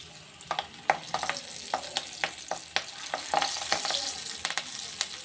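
Masala-coated taro root pieces dropped one by one into hot oil, each landing with a sharp crackling splash over a steady frying sizzle, close and moderately loud, no one speaking.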